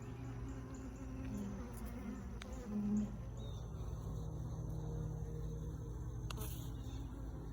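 Honeybees buzz around hive frames during a queen installation, a steady low drone with a couple of brief louder passes close by, over a faint constant background hum.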